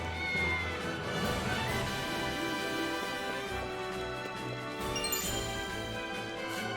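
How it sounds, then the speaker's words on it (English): A cat meows inside the video game Triangle Strategy, set against a dense musical score with chiming, tinkling tones. The meowing sits within the music rather than standing alone. "Cat."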